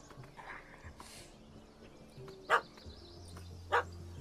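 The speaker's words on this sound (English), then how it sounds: "Don't know how to handle yappy little dogs?" A small dog in a PlayStation 4 game yaps twice in short sharp bursts, spaced about a second apart, over quiet game ambience and low background tones.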